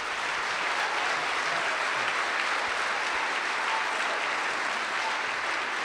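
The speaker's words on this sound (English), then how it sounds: "another round of applause for Alyssa, Marielle, and Nicole." Steady, sustained applause from an audience at an architecture awards ceremony, a dense even clapping that holds at the same level throughout.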